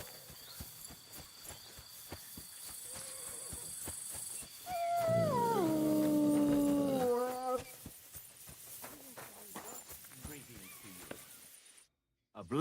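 A dog in a video game lets out a drawn-out, wavering howl that slides downward into whimpers. Game ambience and a person talking surround it, and the howl stands out clearly for a few seconds.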